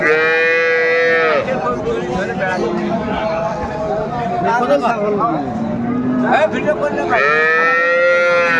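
Cows and calves moo loudly and close by at a cattle market. Long drawn-out lows open and close the stretch, with people chattering and calling in between.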